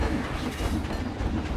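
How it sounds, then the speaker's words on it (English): A train ride in the theme park game Planet Coaster rumbles along with a steady, dense rolling noise and faint clickety-clack, continuous and fairly loud with no voices. "The greatest train ride in the world."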